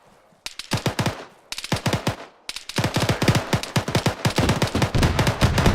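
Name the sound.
autocannon fire from BTR-80A in video game ArmA 3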